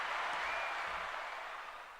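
Steady applause from a small audience rises as a hostess is clapped for at a live weekly show, a dense, even patter that fades slightly toward the end.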